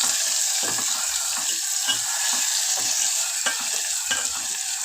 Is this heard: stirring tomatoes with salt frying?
yes